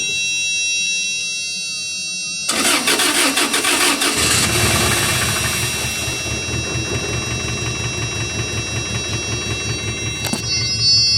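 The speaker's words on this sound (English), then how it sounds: "see if it'll crank" A 2000 Toyota Tacoma truck engine cranks briefly, then catches and starts, settling into a loud, steady idle with a rhythmic pulse, close by and alone.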